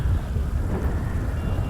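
Pouring rain and rolling thunder in a police-mod video game, a loud, dense, unbroken low rumble with steady rain hiss filling the whole moment, no voices.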